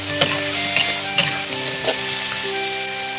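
Duck pieces stir-fried in a wok for braised duck with winter melon, with quiet sizzling under repeated sharp spatula scrapes and clinks, close and fairly loud, no voices.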